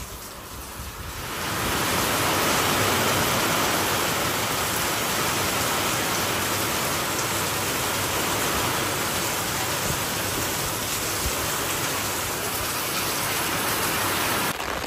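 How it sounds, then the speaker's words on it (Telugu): Heavy rain pours down in a village, a dense, loud, steady hiss of water that swells up within the first two seconds and then stays constant, with no voices. "బీభత్సంగా అంటే బీభత్సంగా కొడుతుంది వాన"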